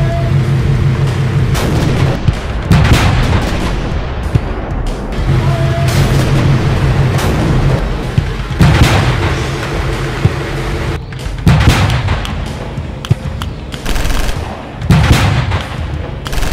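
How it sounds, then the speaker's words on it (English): Two tanks fire their 75mm main guns in a Normandy battle, with heavy booms rising out of a constant loud rumble of combat and engine noise, several blasts spread across the stretch. "both tanks let loose with their main 75mm weapon"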